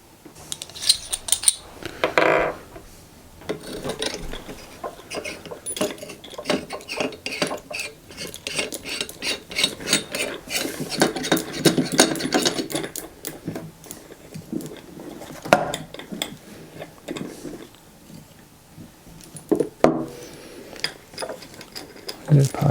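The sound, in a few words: tightening a Manfrotto Sympla shoulder mount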